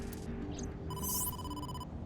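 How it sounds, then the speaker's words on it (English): A phone ringing in the video game AI: The Somnium Files, an electronic ringtone with a sustained bright tone and rising chime over a low game background hum, no speech. "Oh, phone call."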